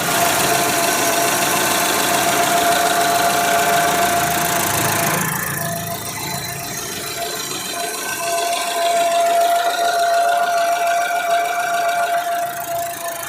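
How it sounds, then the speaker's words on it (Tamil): A 2007 Chevrolet Aveo engine idles up close, a steady low knocking rumble with vibration that continues throughout, slightly quieter partway through. "இப்போ இன்ஜினோட நாய்ஸ் நான் உங்களுக்கு மைக்கை பக்கத்துல வச்சு காட்டுறேன்"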